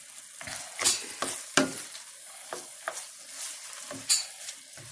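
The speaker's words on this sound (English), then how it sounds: "The mushrooms are sauteing very nicely, and we're going to sprinkle some Parmesan Romano cheese on them." Sliced mushrooms sautéing in a pan with Parmesan Romano cheese for gnocchi, a steady sizzle broken by several sharp scraping stirs of a utensil, close and fairly loud, with no talking.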